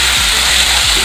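Salt-marinated chicken frying with ground spices for capsicum chicken gives a loud, steady sizzle, close up, with a couple of soft stirring scrapes.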